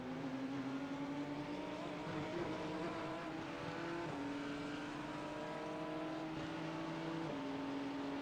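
GT3 race car engine in the iRacing sim at Watkins Glen, a steady high-pitched drone holding and stepping between gears, quiet and alone.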